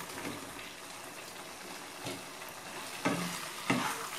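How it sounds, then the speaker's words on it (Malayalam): Fried chicken pieces added and stirred into a boiling Szechuan sauce in a pan at home, with a soft bubbling simmer and a few brief scraping stirs and splashes, quiet and close. "ഇനി ഇതിലോട്ട് വറുത്ത് വെച്ച ചിക്കൻ പീസസ് ഇട്ട് കൊടുക്കാം"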